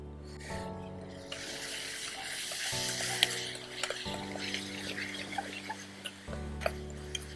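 Banana and mixed fruits are stirred into halwa in a pan, giving a continuous close scraping and sizzling texture with small clicks and knocks from the spoon, loud and steady throughout with no talk over it.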